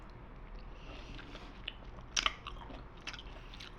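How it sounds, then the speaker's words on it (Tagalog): Someone eats an overripe orange, with soft biting and wet chewing sounds close up, including a few sharper crunchy bites, against a low background hum. "Kain muna tayo ng orange."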